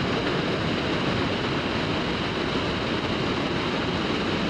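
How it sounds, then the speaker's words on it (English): Steady, loud roaring rush of the Niagara River rapids near Niagara Falls, a dense, continuous wash of churning water with no pauses and no voices. "The power of those waves is crazy."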